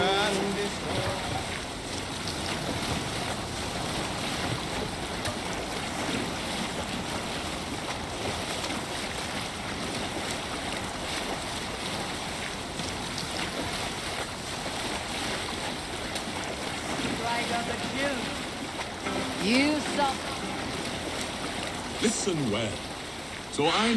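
Viking longship sailing on open water in Assassin's Creed Valhalla, a steady wash of waves and rushing water with wind, crew voices chanting and talking over it throughout.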